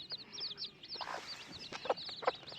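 Several hens cluck in short bursts, with high chirping peeps from chicks scattered throughout, fairly close and steady.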